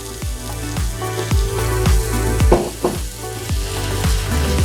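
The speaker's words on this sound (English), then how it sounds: "I have vegetable broth that I'm just going to just drop just a little bit." Vegetable broth is poured into a hot pot of one-pot pasta ratatouille and sizzles loudly and steadily up close, with stirring and scraping scrapes in a steady rhythm throughout.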